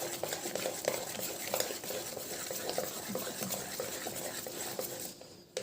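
Wheat flour batter for bondas being stirred by hand in a bowl, soft repeated scraping and slapping strokes at a steady rhythm, fairly quiet and close, with no talk.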